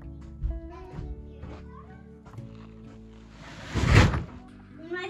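Kittens meowing on an off-grid homestead, several short high mews spread across the clip, close by, with a louder thump or rustle near the end and a little background voice.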